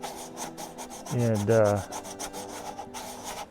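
A DuraBlock hand sanding block rubs back and forth across the body of a 1966 Mustang, giving rhythmic scratchy strokes up close, with a brief vocal sound in the middle.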